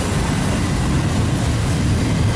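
A long intermodal freight train pulls hard, giving off a loud, continuous, broadband roar of engines and rolling wagons, close by and unbroken throughout.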